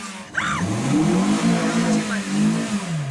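A car engine straining under load with a slipping, burning clutch, droning steadily and loudly with rising and falling revs over about three seconds while voices talk over it.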